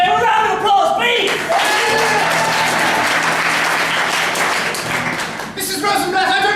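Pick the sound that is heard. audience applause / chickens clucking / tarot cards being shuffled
audience applause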